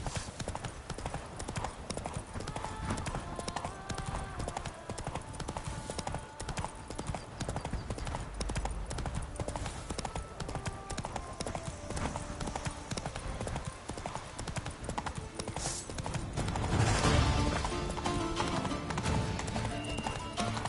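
A horse gallops in The Witcher 3, hooves clip-clopping in a fast, steady rhythm up close with a louder burst near the end, amid busy game ambience.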